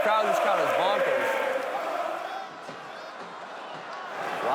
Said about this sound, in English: I don't even know if you guys can hear me over this crowd. This crowd is bonkers.